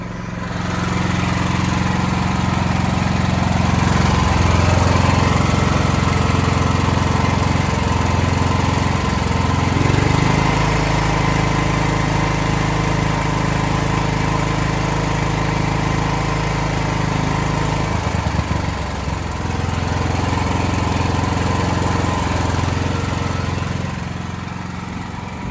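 A standby generator engine runs steadily under load during a routine test, a loud continuous droning hum with no pauses and no talking, holding an even pitch throughout.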